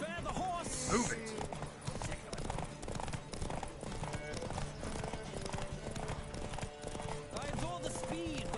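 Horses gallop in a race in the video game Witcher 3, a steady rapid clip-clop of hooves with occasional neighs, close and continuous under a wash of rushing noise.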